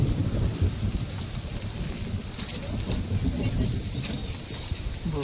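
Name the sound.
rain with thunder at a water park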